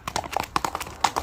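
A horse's hooves clip-clop at close range in a series of quick, uneven strikes, with no voices over them.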